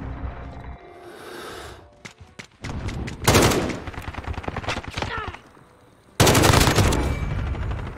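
GRAU assault rifle fire in the video game Modern Warfare, loud bursts of rapid automatic gunfire with sharp cracks separated by quieter gaps, close and dominant in the mix.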